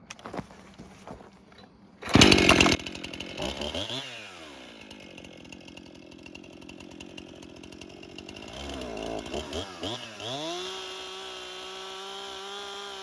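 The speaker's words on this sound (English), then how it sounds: "I'm just using the tip of the chainsaw bar here and touching the wood as lightly as possible" A chainsaw engine revs up loudly, then settles into a steady whine, with a few lighter bursts of revving as the tip of the bar lightly touches wood while carving a rustic bench.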